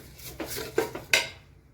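Rice stirred into hot tempering in a pot for khichdi, giving a few close, sharp clinks and scrapes of a spoon against the metal in a short, uneven run.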